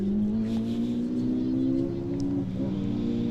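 Ford Fiesta rallycross cars racing for third place in a championship round, with a loud sustained engine roar and gear-shift changes in pitch, no speech.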